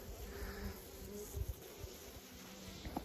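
Bees buzz around close by at an apiary, a steady insect drone with a few louder passes near the microphone.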